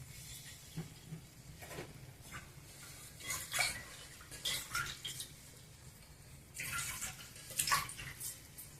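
Water is poured into a pot of tomato dal made with cooked toor dal, giving faint, intermittent splashes and pours mixed with light clinks of utensils in a quiet kitchen.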